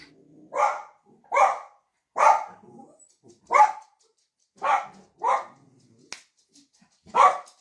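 A dog barks close and loud in about eight sharp, evenly spaced barks over several seconds, each standing out alone against quiet.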